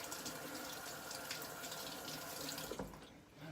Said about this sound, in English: you're just going to wash your apple